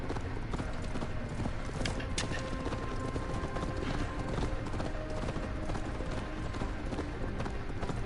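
Horse hooves clip-clop in the Assassin's Creed Valhalla video game, a steady rapid trotting rhythm that runs throughout at moderate loudness, with faint game ambience underneath.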